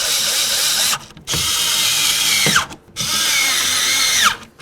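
A power drill whirs loudly in three long bursts, ratcheting as it snugs up tow mirror bolts on a Dodge Ram, with each burst winding down before a brief pause.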